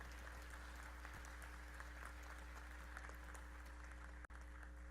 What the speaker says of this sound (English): So I could ask for the clap, right?